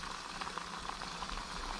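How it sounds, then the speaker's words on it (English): A pot of water at a rolling boil on a Trangia camping stove, a steady close bubbling hiss with soft irregular pops running throughout, no voices. "Alright, that's a roll and boil."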